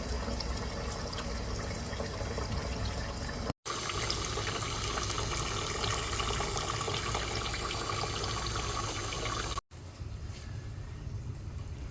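Warm water, fairly warm rather than hot, runs steadily into a container for an orphan foal's milk, a continuous broadband rush broken by two brief pauses where the flow stops.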